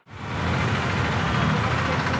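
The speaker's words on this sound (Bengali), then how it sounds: "আমি বেরিয়ে পড়বো, তার আগে বাইকটা বার করে নিই" A motorbike engine starts up and settles into a steady, loud, continuous idle close by, with a rough, even rumble and no talk over it.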